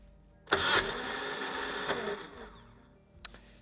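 Starter of a BMW R1150GS motorcycle with a cranking fault grinding loudly for about two seconds without catching, then falling off, followed by a brief click near the end.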